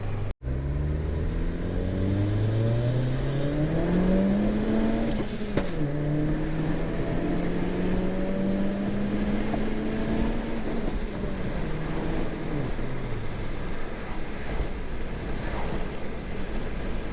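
Turbo Honda Civic engine running with warmed-up oil, a rising and falling engine note as it revs and pulls, steady and close with wind rush throughout and a sharp click near the start.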